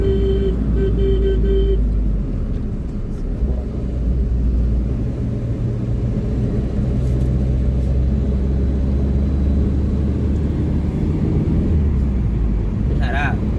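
An old Hyundai Verna cruising smoothly along a road, its steady low engine and road rumble loud and continuous from inside the car, with someone talking over it.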